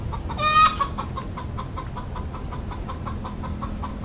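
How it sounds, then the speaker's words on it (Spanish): A hen crows like a rooster in one loud, strained call near the start, then settles into steady, rhythmic clucking at close range. "la gallina empezó a cantar como si fuese un gallo"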